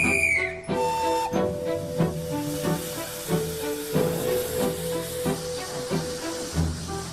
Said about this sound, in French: Un coup de sifflet ou deux?